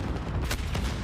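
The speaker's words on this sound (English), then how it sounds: "A lot of gunfire going down" Dense gunfire rattles through a Call of Duty Modern Warfare search-and-destroy esports match, a loud, continuous barrage of shots with no clear gaps.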